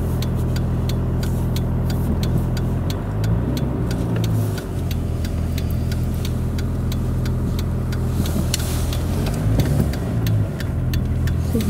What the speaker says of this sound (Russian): Движение. Сейчас все с работы домой едут.